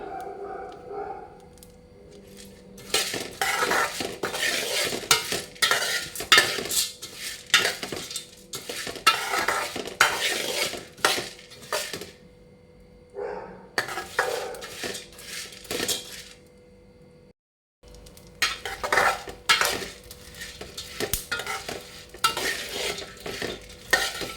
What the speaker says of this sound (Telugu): ఇవి కూడా కొంచెం ఎర్రగా వేపాలి